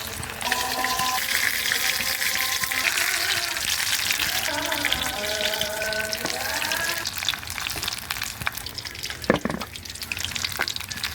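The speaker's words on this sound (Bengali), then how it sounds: "বাকিগুলো এখন একটা একটা করে দিয়ে দিব এইভাবে।" Cauliflower pakoras frying in hot oil, a steady loud sizzle and crackle throughout with occasional stirring clinks near the end.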